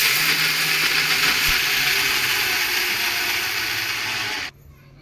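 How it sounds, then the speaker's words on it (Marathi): An electric mixer grinder whirs loudly and steadily, grinding sesame seeds and jaggery for til-gul laddoos, a constant dense motor roar with rattling grit that runs unbroken before cutting off abruptly near the end. "मस्त मिक्सर बनवलं"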